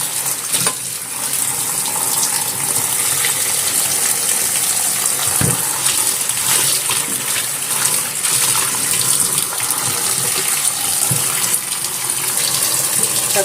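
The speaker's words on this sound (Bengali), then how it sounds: "পাট শাকটা ভালো করে ধুয়ে নেবো, শাকে অনেক ময়লা থাকে, তো ভালো করে কচলে" Jute leaves (pat shak) are washed under running tap water, a loud, continuous gushing stream with a few faint knocks against the vessel throughout.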